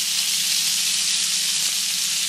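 Venison loin steaks sear in a hot pan with a loud, even sizzle that holds steady throughout, close up and with no voices.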